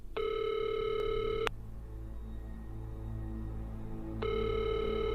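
Outgoing telephone call ringing on the line, two long, even ringback tone bursts separated by a few seconds of quiet, over a low background rumble.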